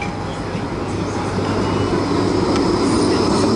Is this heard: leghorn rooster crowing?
no